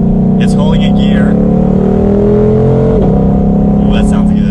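A 2020-2023 Ford Mustang Shelby GT500 in sport mode gives a loud, steady engine drone from inside the cabin, its pitch holding and then dropping as it automatically downshifts, with someone talking over it.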